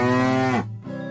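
A cow moos once, a loud, close, drawn-out low call that breaks off and then resumes more softly.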